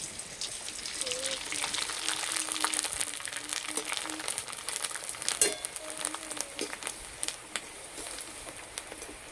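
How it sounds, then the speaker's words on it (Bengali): Rice-flour jhuri deep-fries in hot oil, giving a steady, moderately faint bubbling crackle like light rain. It runs throughout with small pops and no speech. "আর এই যে কত সুন্দর ভাজা হচ্ছে"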